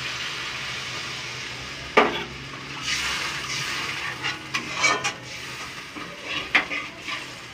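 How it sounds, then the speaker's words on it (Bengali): Water poured into a pan of fish curry base being fried in oil, giving a steady sizzle with stirring and scraping, a sharp hiss burst near the start and several later flares, close and loud with no talk. "এবার আমি অল্প করে জল দিয়ে দেবো।"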